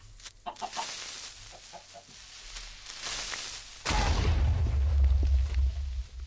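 Chickens in the Minecraft video game give a few short clucks early on, then a sudden loud burst, like a blast, takes over and rumbles for the last couple of seconds.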